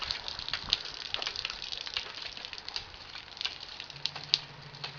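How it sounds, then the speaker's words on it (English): Water pumped out and spilling outdoors, a steady broadband patter and gush with small splashes, fairly close and continuous, with a faint low hum near the end. "that's the water we're getting pumped out of it"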